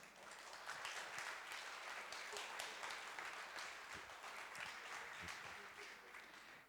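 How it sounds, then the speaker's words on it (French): Audience applause at the close of an evening public talk on water savings, a steady dense wash of many hands clapping throughout, fairly faint and distant, with a few voices mixed in. "On peut les applaudir à nouveau."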